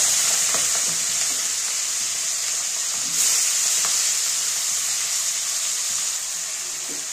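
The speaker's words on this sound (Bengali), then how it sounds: "তেলটা গরম হয়ে গেছে, এবার আমি মাছগুলো ভেজে নেব।" Shrimp fry in hot oil with a loud, dense, continuous hiss and sizzle, close up, with faint stirring knocks underneath.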